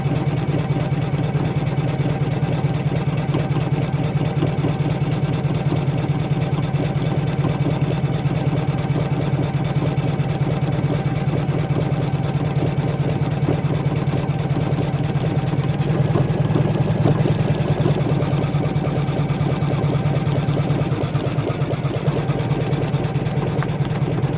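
An embroidery machine stitching a design onto a towel at 600 stitches per minute, a steady, rapid mechanical hum and chatter that runs continuously and evenly throughout, with no voices.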